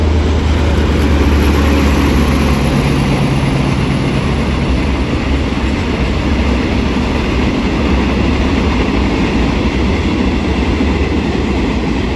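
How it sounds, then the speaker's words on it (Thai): Passenger train number 778 passing through Maluan station in Thailand, a steady loud rumble of wheels and wagons running continuously close by with no talk. "เดี๋ยวเรามารอดูขบวน 778 ให้เราทิ้งท้ายกับคลิปขบวน 778 ผ่านสถานีมะลวนครับ"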